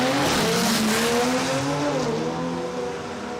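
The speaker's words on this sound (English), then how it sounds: "the Cortina's making a whole lot of different noise" Ford Cortina and Ford Falcon cars at an Aussie eighth-mile drag race, loud engines screaming and rising in pitch as they accelerate hard, with tire squeal mixed in, the roar easing slightly toward the end.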